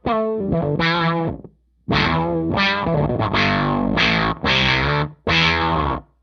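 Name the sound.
guitar fuzz pedal running into a filter effect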